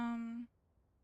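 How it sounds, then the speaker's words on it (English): A pet cat gives a single drawn-out meow to be let in, a clear tonal cry of about half a second followed by quiet room noise. "Oh, and now the cat wants in."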